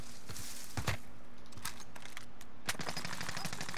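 Gunfire in Call of Duty: Modern Warfare crackles in quick bursts, with several sharp shots and rapid volleys landing near the player, loud against a steady game background.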